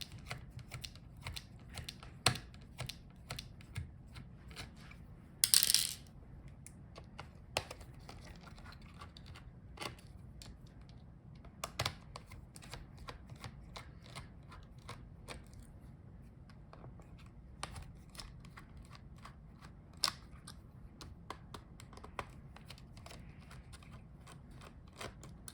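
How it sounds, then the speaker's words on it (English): Small screwdriver work on the heatsink screws of an Asus TUF FX505GT gaming laptop during a teardown: faint, scattered clicks and ticks, with one brief louder rattle, over quiet background. "So unscrew all the screws for the heatsink."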